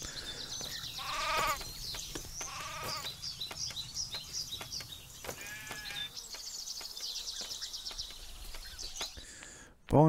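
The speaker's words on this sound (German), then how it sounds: "Noch ein Schaf." Sheep in the building game Craft The World bleat several times in short wavering calls, moderately close, over a quiet ambient game backdrop with faint bird-like chirps.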